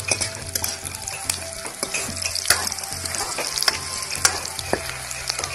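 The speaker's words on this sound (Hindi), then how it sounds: "पहले लाल मिर्च डाली थी, फिर लहसुन डाली थी, फिर प्याज डाला, इन सब को ब्राउन करना है।" Red chili, garlic and onion frying in oil until brown, with a steady crackling sizzle and frequent scrapes and clinks of a spoon stirring in the pan, close and continuous.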